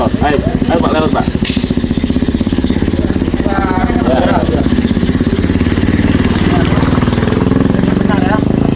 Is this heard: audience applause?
no